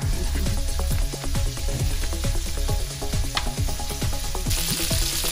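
Sausages sizzle and fry in a pan, giving a steady, loud crackle with dense popping and spitting that continues unbroken throughout, with no talking.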